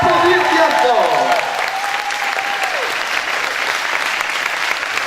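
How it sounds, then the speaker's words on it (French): An audience at the opening of the Miss Ronde Aquitaine 2013 show claps loudly and steadily for the committee president, with a short musical phrase fading out early on. "L'applaudir bien fort"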